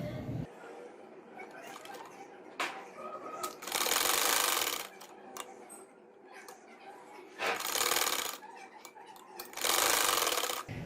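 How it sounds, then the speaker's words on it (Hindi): A sewing machine stitches fabric butterfly ties for a salwar hem in three loud, close bursts of rapid whirring, separated by quieter handling noises and a faint voice. "जो दूसरा है वो भी सिलाई लगाऊंगी"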